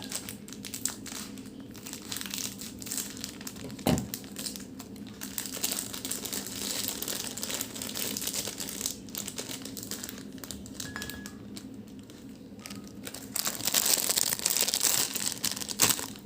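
Plastic packaging crinkles and rustles on and off at close range, with a sharp tap partway through and louder crumpling near the end.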